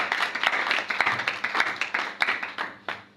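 Congregation clapping in church during worship, a steady run of rhythmic handclaps at close range, with no talk over them.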